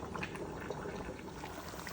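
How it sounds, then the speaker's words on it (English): Water poured into a simmering pot of duck curry gives a continuous bubbling, splashing wash of liquid that stays close and steady throughout, with no talking. "I am going to add in my water here"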